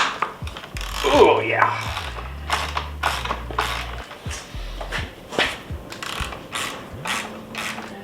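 A ratchet fitted with a 14mm Allen socket loosens the front axle of a Honda CRF300L, giving repeated close, sharp clicking strokes with short pauses and a brief spoken aside.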